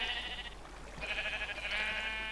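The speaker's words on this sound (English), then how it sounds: "Lots of sheep." Sheep bleating in the video game Minecraft, several overlapping nasal bleats running steadily across the whole stretch at moderate loudness, with no talk.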